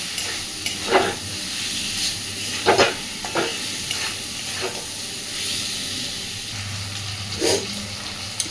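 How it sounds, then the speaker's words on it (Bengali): Spices and potatoes sautéing in oil for ghugni, a steady close sizzle with several scraping stirs of a spatula against the pan spaced through, no voices. "আলুর সাথে সব কিছুকে মিশিয়ে একটু কষে নেব"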